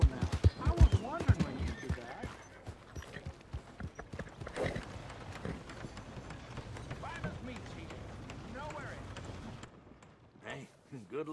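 Horse hooves clip-clopping in Red Dead Redemption 2, rapid galloping hoofbeats at first, then slower uneven steps and occasional snorts, with someone talking over them.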